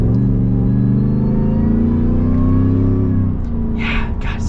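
2020 Ford F-150 Super Snake truck exhaust, a loud close deep rumble that climbs in pitch as the engine revs through a downshift, then drops away with a couple of brief crackles near the end.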